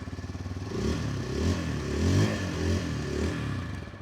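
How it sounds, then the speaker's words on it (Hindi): Hero Xtreme 160R 4V motorcycle idling close by, its exhaust note a steady low throbbing burble with slight rises and mechanical clatter, heard alone with no talking. "एक बार मैं आपको एग्जॉस्ट नोट भी सुना देता हूँ,"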